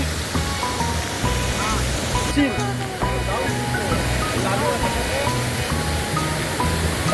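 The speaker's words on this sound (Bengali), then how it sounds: "আমরা পৌঁছে গেছি একদম ঝর্ণার সামনে।" Sahasradhara waterfall near Dehradun pours in a steady, loud broadband rush close by, with people talking and calling over it throughout.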